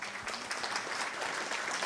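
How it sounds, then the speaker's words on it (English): Audience applause for the speakers at a Mexican American community event at Scottsdale's Old Adobe Mission: a continuous, fairly soft crowd of clapping hands, steady throughout. "Round of applause to all the speakers today."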